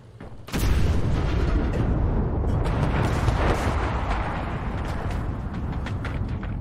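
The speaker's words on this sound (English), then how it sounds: "I'm in a tank now. I'm using a tank." Tank cannon fire and explosions in the World War II shooter game Enlisted: a sudden loud blast opens a dense, sustained roar of booms, rumble and battle noise that carries on steadily to the end.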